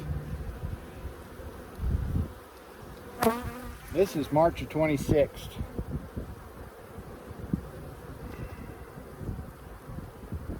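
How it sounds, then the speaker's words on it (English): Honey bees buzzing around an open hive during a March spring inspection at Soybean Bay Farm, a steady close drone of many insects with wind rustle and a person speaking briefly over it. "Look at all the bees."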